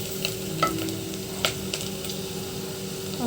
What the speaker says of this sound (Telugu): కుక్కర్ పెట్టేసి ఆయిలు, ఆవాలు, ఎర్రగడ్డ, పచ్చిమిరపకాయలు వేసి వేయించుతున్నాను